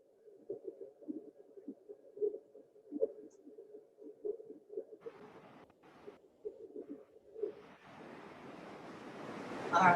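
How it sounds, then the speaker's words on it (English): Ocean surf on a beach: a soft, spreading wash of breaking waves rises and grows louder over the last few seconds, after a stretch where a voice talks over a faint background. "There it is, the waves."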